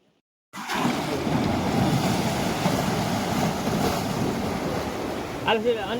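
Seawater surges into Gomti Ghat at Dwarka with a loud, steady roar of waves and wind that begins abruptly and holds constant throughout.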